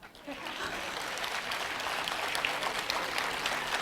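A crowd at a home care products presentation breaks into clapping that swells quickly after a soft start, then holds as a thick, steady wash of many hands.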